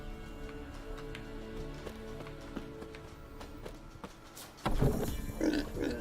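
Pig grunts and snorts in The Witcher 3: Wild Hunt over steady background sound, with a louder burst of activity and rustling toward the end.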